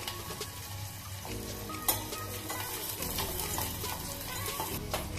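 Green chillies, dried red chillies and curry leaves frying in a pan for sambar, a close continuous sizzle with crackles, stirring scrapes and a sharp spatter near the start.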